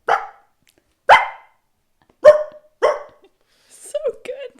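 A man imitates a dog with his voice, giving four sharp, close barks spaced about a second apart, then a softer run of yips and whines.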